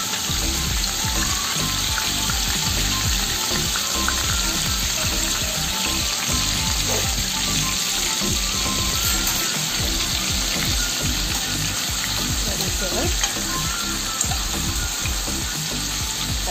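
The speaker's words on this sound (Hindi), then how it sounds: "इसमें मैं अपने पनीर को हल्का हल्का फ्राई करूँगी, ज़्यादा डीप नहीं करना है, बस हल्का ही फ्राई करेंगे" Paneer pieces fry lightly in hot oil in a dhaba-style preparation, giving a dense, even sizzle that crackles without a break throughout.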